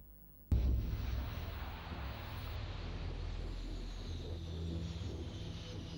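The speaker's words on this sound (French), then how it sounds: "les super-étendards français décollent du Clémenceau pour foncer sur une base d'intégristes iraniens" French Super Étendard jets launch from the aircraft carrier Clemenceau with a sudden loud blast that settles into a sustained, heavy low roar.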